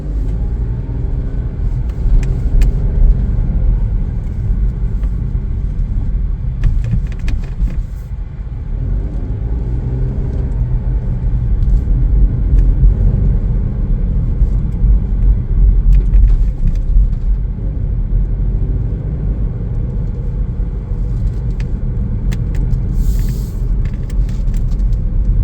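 A 2025 Chevrolet Trax 1RS driving on the road, heard from inside as a steady low road rumble and engine drone that holds loud and even throughout, with a few faint clicks and no talking.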